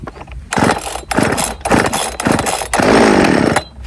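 A small chainsaw is yanked several times with short sputtering bursts, then the engine catches and runs loud and close for a moment.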